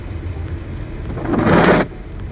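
Steady heavy rain in Wayanad, Kerala hisses throughout, swelling louder for a moment before settling back, with a low rumble underneath.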